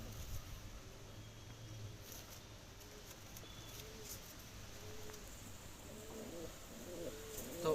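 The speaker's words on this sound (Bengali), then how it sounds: "দেখুন আমার হাতে একটি পায়রা রয়েছে" A domestic homing pigeon held in the hand gives soft, repeated low coos, faint and close, spaced through the quiet background.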